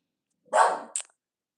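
A neighbour's dogs bark nearby, one loud bark followed by a shorter, sharper yelp, heard alone with no talking.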